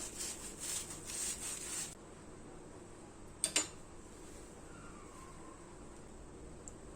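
A knife cuts through a toasted vegetable and cheese sandwich on a plate, giving quiet crunchy scraping strokes for the first two seconds, then a sharp crisp crunch or two, close and otherwise faint.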